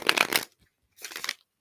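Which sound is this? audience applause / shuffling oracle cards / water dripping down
shuffling oracle cards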